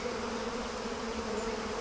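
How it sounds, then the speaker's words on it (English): Honey bees pouring out of a smoked hive in Nepal, a dense steady buzzing hum from many insects at once, continuous and fairly close with no pauses. "the bees start to evacuate the hive."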